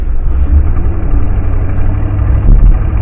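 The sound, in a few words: car engine idling while pulling out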